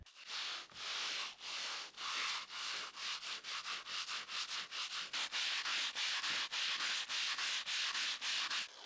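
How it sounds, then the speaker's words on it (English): Aerated concrete masonry blocks being leveled with a float and sandpaper, a dry rhythmic scraping that starts in slower strokes and speeds up into quick, steady rubbing, close and alone. "I used a float and sandpaper to level the first row's surface"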